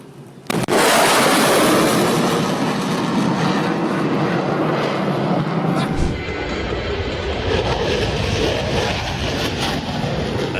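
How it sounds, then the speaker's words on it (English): A fighter jet makes a sonic flyby, an abrupt thunderous blast that becomes a sustained, loud roaring rush of engine noise. The roar stays heavy and broadband, and its low rumble shifts partway through as the aircraft passes. "Sonic flyby."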